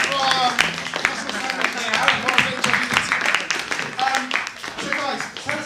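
Audience clapping at a lunchtime college gig, scattered applause under someone speaking over it.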